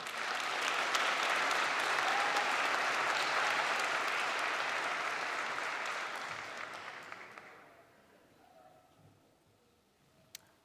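A large commencement audience applauds graduating Environmental Studies seniors at a December ceremony, the clapping holding strong for several seconds before thinning and fading out to near quiet, with one last isolated clap near the end.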